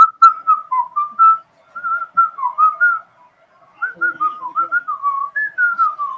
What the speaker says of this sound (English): You want us to whistle while you work too?